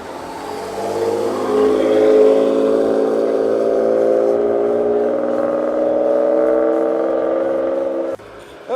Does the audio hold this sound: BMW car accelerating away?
yes